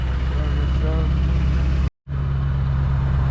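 Truck rig idling outdoors in the snow, a steady low diesel-like rumble running continuously with a brief cut in the middle, heard close up with no talking over it.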